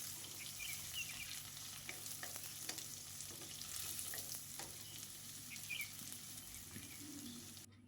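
Vegetables and beans stir-fried in a pan for egg hakka noodles: a steady close sizzle with repeated scraping and stirring strokes throughout, no voices.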